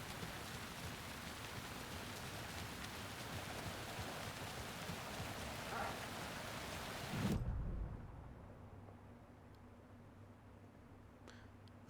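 Rain falls steadily in the Alan Wake 2 video game, a dense hiss that drops abruptly to a quieter, softer patter about two-thirds of the way through.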